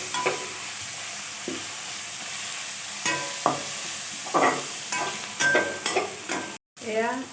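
Ginger and garlic sizzling with onions in a hot pan while making chicken biryani, a continuous close frying hiss punctuated by repeated spatula stirs and scrapes, no voices.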